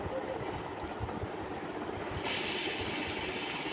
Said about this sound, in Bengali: সোমবার দিয়ে এবার কুচিয়ে রাখা লাউগুলো দিয়ে দেবো এর মধ্যে।